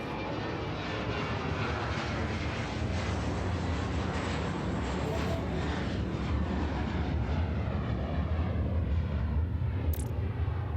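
Jet airliner engines roar steadily through a takeoff roll in the Airport Madness air traffic control game, a loud, continuous broadband rumble with no talk over it.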